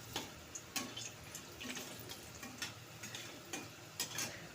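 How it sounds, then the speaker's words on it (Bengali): Garlic frying in oil produces a faint, continuous sizzle broken by repeated stirring scrapes at a loose, regular rhythm. "ওই তেলেই আবার রসুনটাকে ভেজে নিতে হবে"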